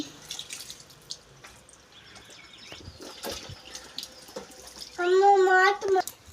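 Water runs and splashes from a tap in the background while people talk, with a brief louder gush near the end.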